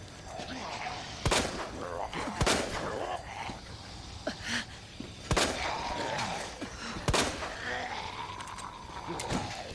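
Sharp gunshots ring out in the survival horror game Resident Evil 2 Remake, several spaced single shots over game ambience and music, while a voice talks throughout.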